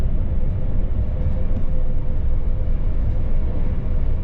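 Steady low rumble aboard a Serbian Railways Stadler high-speed train running from Belgrade, with continuous loud rolling and traction noise and no voices.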